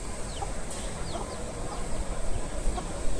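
Roosters and hens at a rice mill near farmland give soft clucks and short rising calls, a few bursts spread across a steady ambient hum and heard alone without speech.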